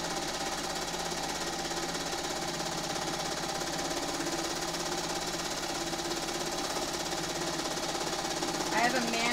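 Sewing machine stitching steadily during a quilting session, a continuous mechanical whir with a rapid chattering rhythm that holds throughout, with a brief louder burst near the end.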